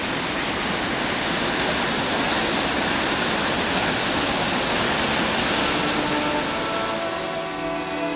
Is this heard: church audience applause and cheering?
no